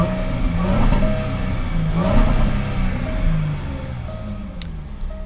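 A Jaguar XF S supercharged V6 engine revs with a steady supercharger whine over a deeper engine rumble, continuous and fairly close throughout.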